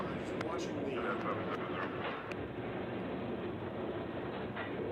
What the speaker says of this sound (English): It definitely has all the makings of a unit tank car train.